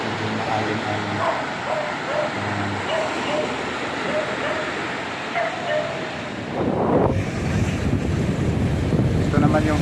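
Wind blows steadily across a white-sand beach resort on Bantayan Island, a broad rushing noise that grows louder and rougher partway through, with someone talking over it.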